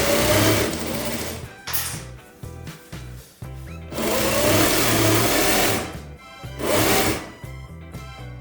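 A sewing machine stitches across the top of pleated tartan kilt fabric in loud, close bursts of rapid mechanical whirring, several runs separated by short pauses and handling clicks.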